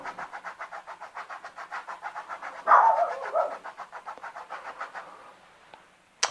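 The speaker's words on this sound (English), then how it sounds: "if you hear my dog barking in the background out there" A pet dog outdoors barks in a fast, steady rhythm of repeated pulses, heard in the background from outside and slightly muffled, then briefly louder before falling quiet.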